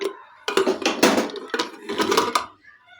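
A lid lifted off a pot of masoor lentil dal cooked with drumstick stems: a few short metallic clatters and knocks in quick bursts, close and fairly loud, with no other sound around them.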